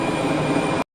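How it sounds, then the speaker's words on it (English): A British Airways A319 airliner rolls for takeoff, a steady, loud broadband roar of jet engines that holds even and then cuts off abruptly after under a second. "British Airways 319 on the roll."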